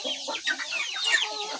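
Brahma chickens clucking and squawking on a native chicken farm, several birds calling over each other in a steady, busy chatter at moderate distance.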